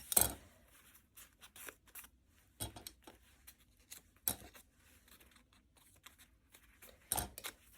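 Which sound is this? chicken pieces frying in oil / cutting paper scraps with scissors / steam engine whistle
cutting paper scraps with scissors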